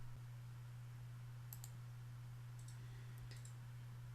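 A few faint, crisp mouse clicks in software, one early and a small cluster later, set over a steady low electrical hum in a quiet room.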